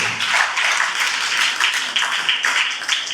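Audience clapping at an inter-house school quiz competition, a dense steady round of applause from a crowd lasting the full stretch with no voices over it.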